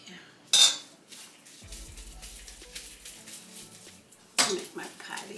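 A metal soup scoop dragging and clinking through chicken burger mixture in a bowl, with two sharp scrapes and soft scooping between, under a voice speaking.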